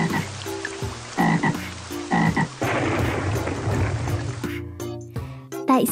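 Repeated croaking calls from a toad or frog, close and fairly loud, coming in bursts with short pauses and some rain-like patter behind.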